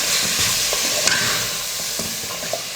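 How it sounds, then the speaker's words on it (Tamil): Chicken kulambu masala sautéing in a pan, a steady close sizzle with occasional spatula scrapes and taps as the spices are stirred, no voices. "எல்லா மசாலும் சேர்த்ததுக்கப்புறம் நல்லா வதக்கிக்கலாம்"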